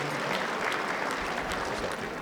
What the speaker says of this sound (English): Let's give us a round of applause for Jonathan.